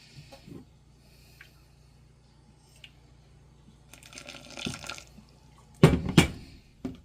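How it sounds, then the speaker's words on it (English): A short splash of boiling water pours into icing sugar near the end, preceded by faint hissing and a few quiet drips over a low hum. "To this, we are going to add about 1 tablespoon of boiling hot water"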